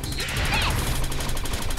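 Rapid gunfire from the video game Gal Guardians: Demon Purge, a dense continuous stream of shots that stays steady and loud for under two seconds, with no talking.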